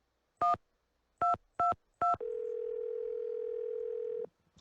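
Telephone dialing in the Nancy Drew game The Secret of the Scarlet Hand: four short keypad tones in an uneven sequence, then a steady tone held for about two seconds before it cuts off, clean and with no talking.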